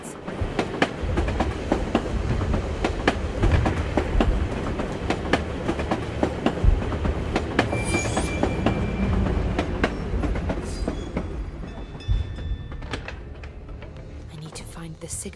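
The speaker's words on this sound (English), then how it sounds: "This tram will take me to the edge of the Volga." A tram rolls along its rails in Assassin's Creed Chronicles: Russia, steady low rumble with rhythmic clickety-clack and brief metallic squeals, continuous and close throughout, easing slightly toward the end.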